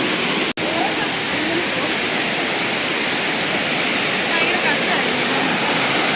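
Steady broadband roar of a small waterfall on a forest trail, loud and continuous with a brief dropout near the start, with a voice faintly present.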